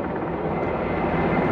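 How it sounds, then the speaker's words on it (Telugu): Helicopters circling in the sky over Seoul produce a steady, broad aircraft drone that stays at even loudness, with no talking. "హెలికాప్టర్స్ అన్నీ బాగా తిరుగుతున్నాయి పైన ఆకాశంలో"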